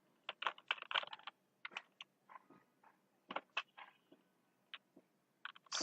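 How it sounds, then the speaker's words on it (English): Keys on a computer keyboard are tapped in quick, irregular bursts, close and fairly quiet, with short pauses between clusters of keystrokes. "Now type interface."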